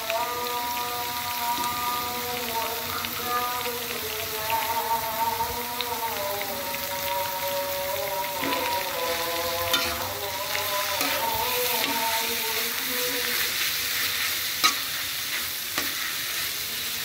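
Steamed vegetables for lumpia filling cooking in a frying pan, a continuous rain-like sizzle with steady stirring and a faint tonal whine running through the background, no voices.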